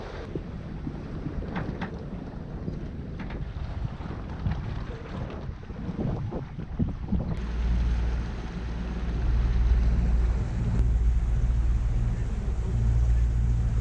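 Steady wind gusts across a Lagoon 50 catamaran riding at anchor off La Graciosa in the Canary Islands, a loud, constant roar with microphone buffeting that strengthens toward the end.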